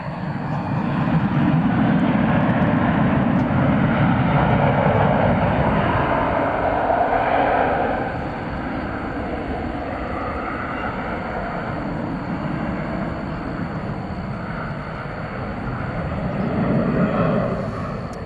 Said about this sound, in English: American Flight 2507 is going to Salt Lake City, Utah. It's an Airbus A321, a late night flight.